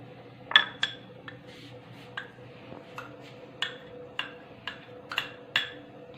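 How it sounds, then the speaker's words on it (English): A spoon stirs a homemade scrub of dried rose petals and orange peel in a bowl, making a series of light, irregular clinks and taps, close and fairly quiet, against a soft background hum. "So we're gonna give it a mix."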